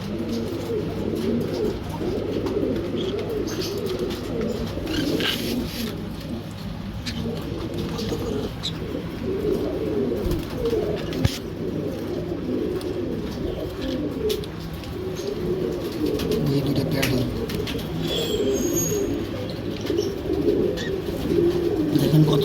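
Pigeons kept in pairs for sale cooing continuously, a dense overlapping murmur of low coos close by, with faint voices in the background.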